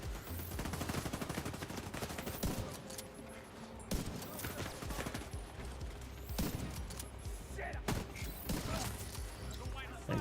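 Automated turret firing rapid bursts in The Division 2, dense sustained gunfire with sharp mechanical clatter mixed with other combat noise throughout.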